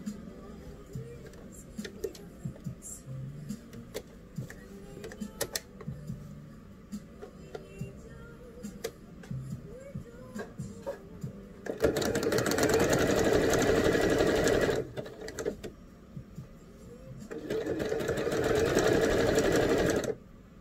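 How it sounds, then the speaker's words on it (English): A home sewing machine stitches bell sleeves onto a Simplicity 8466 shirt, running in two loud steady bursts of a few seconds each after quieter handling sounds and a brief pause. "go on over to your sewing machine, sew them, sew your sleeves on"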